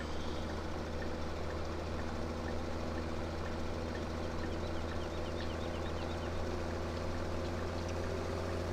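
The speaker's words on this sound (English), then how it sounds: "Start the engine." Tractor engine in Farming Simulator 17 running at a steady idle, a constant low droning hum with no clear start-up, even and unbroken from beginning to end.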